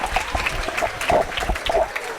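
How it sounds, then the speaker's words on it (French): School pupils applauding at a school event, a moderate, uneven patter of clapping with some crowd noise mixed in, fairly close and continuous. "je pensais que les élèves de Père Daniel Brotier allaient applaudir très très fort le préfet Jean de Dieu Moussalou."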